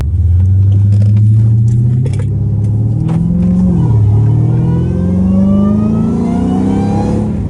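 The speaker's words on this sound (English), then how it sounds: "Ooh, yeah, girl's driving a Hellcat right now." A Dodge Hellcat Redeye's V8 revs and pulls hard on a mountain road, its deep engine note climbing steadily in pitch through a gear, dipping briefly, then rising again, loud and close inside the car.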